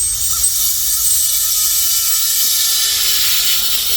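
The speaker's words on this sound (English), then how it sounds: "So you do leave that open a little. Yep. That's venting the tank." Propane hisses steadily and loudly from the vent screw of a small tank during a wet-line refill, a continuous close airy rush with no pauses.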